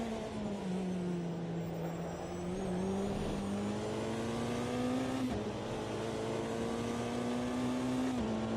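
Race car engines roaring through a 3-hour Le Mans race in Automobilista 2, a steady high whine that rises and falls with gear shifts, loud and continuous.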